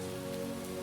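Rain falling at night around a house, a steady even patter with a constant low hum beneath it and no voices.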